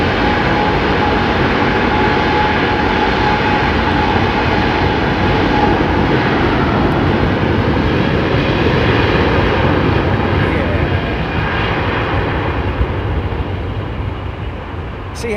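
A jet airliner at London Heathrow Airport roars loudly and steadily throughout, a broad sustained engine rumble that eases slightly toward the end.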